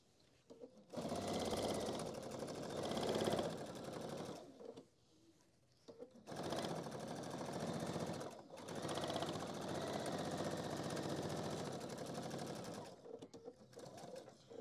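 A sewing machine stitches the inner pocket seam of a fabric handbag organizer, running in two long steady buzzing bursts separated by a short pause, close and alone.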